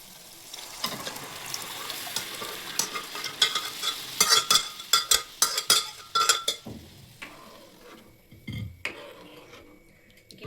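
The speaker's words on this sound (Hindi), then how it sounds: "मसाला पक गया मेरा, मैं इसमें डाल दूंगी दाल।" Dal is poured into cooked masala for Malwa-style dal baati and stirred, giving a wet sizzle with a burst of scraping, clattering stirring strokes that then fade to a quieter simmer.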